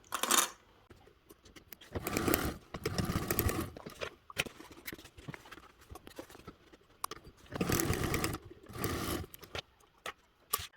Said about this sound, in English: we are going to top stitch along those seams as well